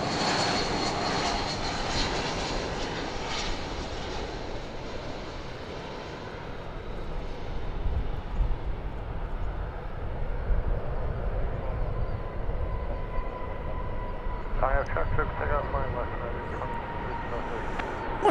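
Flight 1034 from Guadalajara passes at DFW Airport, its jet engines roaring loud at first, then fading into a lower, steady rumble, with faint voices toward the end.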